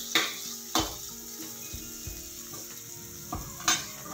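Tomatoes fry in a little oil for brinjal chutney with a soft, steady sizzle, punctuated by several sharp spatula scrapes and knocks against the pan.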